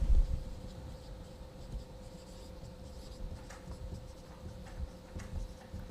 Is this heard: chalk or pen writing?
yes